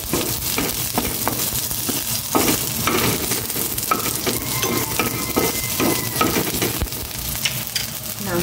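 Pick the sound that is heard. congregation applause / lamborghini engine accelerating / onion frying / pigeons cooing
onion frying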